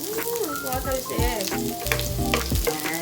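Onions fry in a hot pan for Filipino adobo, sizzling loudly and steadily close by with spitting, popping splatters throughout; someone talks over the cooking.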